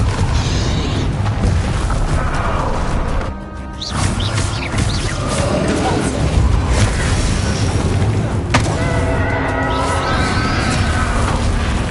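A Confringo spell explodes in a video game duel against a dragon, bursting out amid a loud, dense wall of rumbling booms and crashes that runs without a break for the full stretch.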